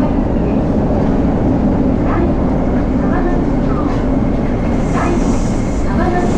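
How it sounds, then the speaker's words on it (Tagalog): A train pulls into a crowded station in Japan with a steady, loud rumble of rolling cars and station noise, and people talk over it throughout. "So dito na yung train natin, sana makaupo tayo."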